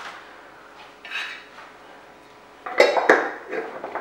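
Metal pot lid and cookware clink and clatter at close range while Italian hot chocolate is made, a few sharp knocks and scrapes with a louder cluster near the end.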